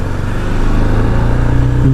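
A 2021 BMW G310R motorcycle engine revs close up under quick throttle blips, a loud, steady mid-pitched drone with rising harmonic bursts and no talking.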